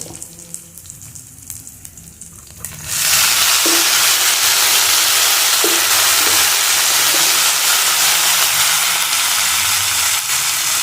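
Loud, steady sizzling of boiled plantain and green gram being stirred into softened onions in a hot pan, starting abruptly after a quiet opening and holding a dense hiss with faint scraping throughout.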